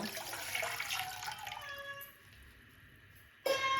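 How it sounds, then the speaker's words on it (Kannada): Water poured into a hot pan in a home kitchen while cooking a traditional orange-peel curry, a steady close gush that cuts off midway and resumes briefly at the end. "1 ಲೀಟ್ರ್ ನೀರು ಹಾಕೊಳ್ಳುವ"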